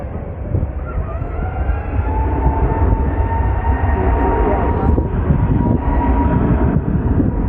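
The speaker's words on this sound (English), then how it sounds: "the sound of an A320 Neo is very different from that of a CO." An EasyJet Airbus A320neo airliner beginning its take-off roll at Manchester Airport, a loud, continuous engine roar with a faint whine layered on top, heard from a runway-side spot and growing slightly over several seconds.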